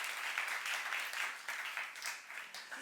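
A church congregation at a youth service sermon applauds together, a fairly faint but continuous patter of many hands clapping that swells and eases slightly over a few seconds, with no voice over it.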